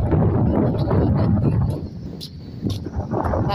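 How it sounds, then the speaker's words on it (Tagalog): Wind gusting steadily outdoors in Rosh Haayin, Israel, in open desert-like country, a broad rushing roar that stays loud and close at the microphone and eases slightly midway before picking up again. "Ngayon ay mahangin na."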